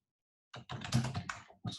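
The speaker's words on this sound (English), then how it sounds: "oops, sorry about that, typing" Quick bursts of keys being tapped on a computer keyboard in an office, close and fairly soft, coming in a short uneven run after a moment of silence.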